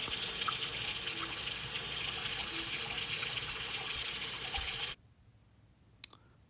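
Water runs steadily from a kitchen faucet in a hissing, splashing stream for about five seconds, then shuts off abruptly, leaving near silence with a faint click.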